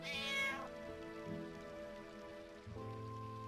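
A cat meows in Final Fantasy 9, one clear high meow at the start over a bed of game music and soft rain-like ambience.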